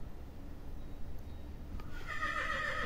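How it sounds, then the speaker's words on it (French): A horse gives a loud, clear whinny in the last second, a wavering high call with a rough edge against quiet outdoor background noise. "On a les chevaux aussi."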